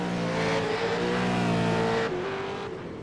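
A V8 Supercar race car at Barber Motorsports Park in Alabama leaves pit road after a quick stop, its engine roaring loudly and close, shifting gear as it pulls away.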